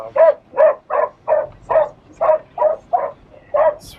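A dog barks at a delivery driver, giving about nine steady, evenly spaced barks at close range and fairly loud, with no talking over them.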